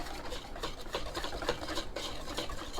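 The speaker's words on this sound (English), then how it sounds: "Now we're going to go ahead and whisk all this together." Batter for Sriracha fish and chips being whisked in a bowl, a steady run of quick scraping strokes that stays close and fairly loud, with no talking over it.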